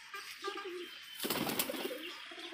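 Desi high-flying pigeons give a soft close coo, then a burst of flapping wings rushes in loudly before the cooing returns faintly.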